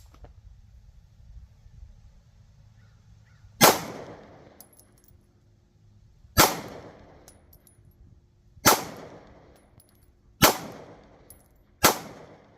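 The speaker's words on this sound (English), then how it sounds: "I'm going to shoot at that blue 6 there and concentrate" Five sharp Kahr PM9 pistol shots fired at a range target, each a loud crack with a short ringing decay, spaced roughly two to three seconds apart after a quiet start.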